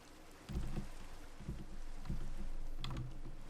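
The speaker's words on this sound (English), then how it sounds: "It's raining." Rain falling in the video game Minecraft, a steady hiss of patter with soft low rumbling bursts, moderately loud and continuous with no talking.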